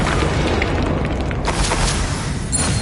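A loud, sustained Confringo spell explosion in Hogwarts Legacy, a booming rumble that holds throughout with crackling bursts layered on top.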